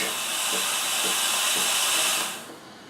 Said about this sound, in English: We're going to turn it back on for a second just to let the head purge.